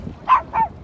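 A small dog gives two quick, sharp yips close by, each a brief bark about a quarter second apart, with nothing else around them.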